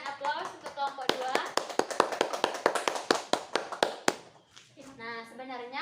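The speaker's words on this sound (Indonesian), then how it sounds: "Berikan aplaus untuk kelompok 2." Classroom applause for a student group: a quick run of sharp, loud hand claps in uneven rhythm, close by, with children's voices talking over and after it.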